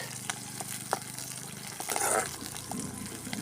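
Green chillies, garlic, shallots and ginger sautéing in a pan for a village-style garlic gravy, giving a steady close hiss and crackle of frying with a few sharper pops and a brief louder surge of sizzling.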